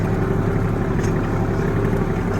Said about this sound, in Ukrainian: Працює кубота.